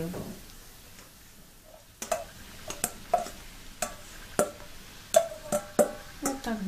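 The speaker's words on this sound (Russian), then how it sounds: "Наш лук уже подрумянился, поэтому можно добавить туда грибы." Mushrooms tipped into a pan of browned onions, giving a steady, close sizzle broken by repeated sharp clatters and scrapes of stirring, with no talking.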